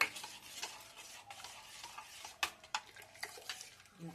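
Junnu mixture stirred in a pot with a leaf, giving a steady wet scraping and swishing with a few sharper clinks, close and fairly quiet with no talking.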